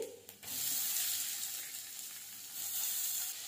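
Chopped onions, two medium-sized, hit hot oil that already holds fried ginger and garlic, setting off a steady, close hiss of sizzling that swells at the start and keeps going evenly to the end.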